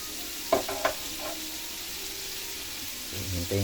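Chicken frying in hot oil gives a soft, continuous sizzle, broken by a couple of sharp clinks early on and a low scraping stir near the end.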